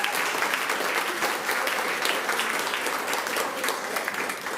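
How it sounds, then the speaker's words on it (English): Crowd at a challenge grand final gives the competing teams a round of applause: full, steady clapping from many hands, fairly loud and close, holding evenly for several seconds with no speech over it. "Round of applause for our teams,"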